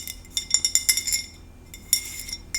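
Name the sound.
ice clinking in a glass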